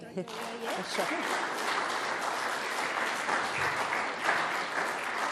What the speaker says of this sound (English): accept this round of applause and standing ovation from the Rotarians